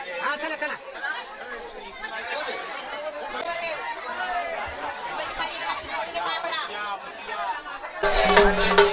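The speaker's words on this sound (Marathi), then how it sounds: "सोमवार असल्यामुळे खूप गर्दी आहे" Dense crowd chatter at the Khandoba temple on Jejuri fort, a steady babble of many voices close around, swelling into a louder burst of noise near the end.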